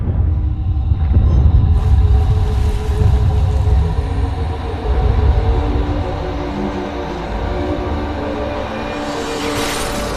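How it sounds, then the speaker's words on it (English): The Doom train running in the video game Alice Madness Returns, a loud continuous low rumble and rolling drone with a steady mechanical hum, swelling slightly near the end. "Hatter, I must stop this infernal train and the evil force that drives it."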